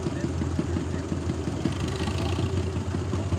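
A 1955 Allis-Chalmers WD-45 antique tractor idles at a street fair tractor pull, its engine chugging in a steady low rhythm for a few seconds amid background crowd noise.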